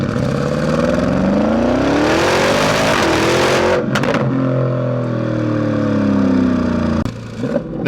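A Porsche Cayenne Turbo GT accelerates hard in Sport Plus mode with a loud, close engine roar rising through the revs, a brief shift break, then climbing again, continuous throughout with no talk.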